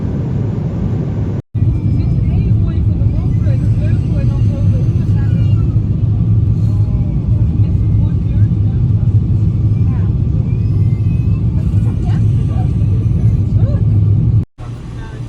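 Steady, loud low-frequency engine drone filling an airliner cabin on a flight from Amsterdam to Toronto, continuous throughout with brief cuts near the start and end.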